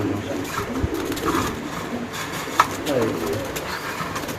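A male pigeon coos close by in low, muffled bursts against a noisy, hissy background, with people talking nearby.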